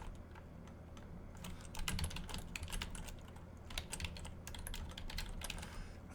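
Steady typing on a computer keyboard, a quick irregular patter of soft key clicks close by, fairly quiet and continuing throughout, with no voices.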